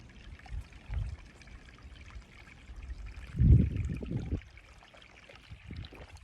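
Water squeezed from a soft bag through a Sawyer filter pours and trickles in short uneven spurts, close and fairly quiet, with one stronger gush midway.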